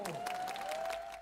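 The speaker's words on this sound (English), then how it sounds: "what are they clapping for?" Crowd applause during a ball event, steady dense clapping from many hands lasting throughout, with a sustained tone running underneath and fading slightly at the end.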